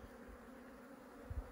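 Honeybees disturbed at a hive buzz in a faint, steady drone, with a couple of soft low bumps near the end and no talking.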